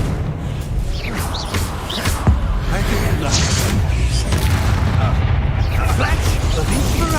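Magic spell blasts and explosive booms rumble through combat in the Hogwarts Legacy video game, a dense continuous roar of impacts with brief whooshing streaks layered over it and a voice shouting in the mix.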